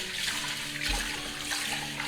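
Lentils for dal are washed under running tap water, a steady close rush of water with a brief splash partway through and no talk.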